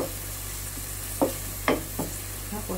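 Vegetables being stirred in a frying pan for a Filipino ginisang gulay (pachamba) with sausage, a few soft scraping stirs over a steady low sizzle, close and fairly quiet.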